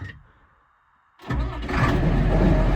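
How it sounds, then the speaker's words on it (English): A John Deere 8010 combine engine cold-starting during a spring wheat harvest: a quiet lull, then a sudden loud catch into a steady, rumbling run that builds slightly in strength. "Turn the fan down so we can hear this nice cold start"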